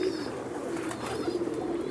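Cooing of a large-bodied pigeon of an old breed kept by a longtime Jammu city pigeon fancier, a soft steady low coo running through the whole moment with faint background noise.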